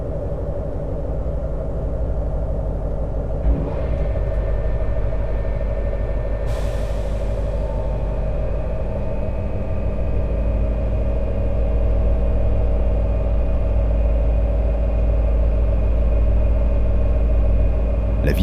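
A freight train starts hard on an incline in an industrial zone near Amiens, heard from inside the locomotive cab as a loud, steady deep diesel rumble with sustained engine tones and a brief hiss of air partway through.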